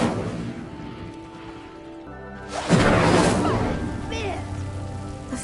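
An Incendio fire spell lighting a stone pyre in the video game Hogwarts Legacy, a sudden whooshing burst of flame at mid-clip that settles into a crackling, rushing fire, preceded by a quieter ambient hum.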